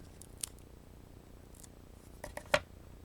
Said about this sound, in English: So I'm going to cut a slice of this off and go behind my snowman.